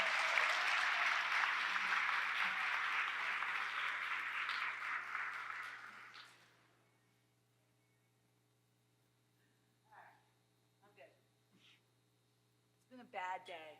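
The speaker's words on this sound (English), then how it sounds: "Please give a round of applause for Dr." Audience applause welcoming Dr. Jennifer Miller at a PWS conference session on endocrinology, loud and sustained for about six seconds before stopping, followed by quiet room tone and brief bits of nearby talk.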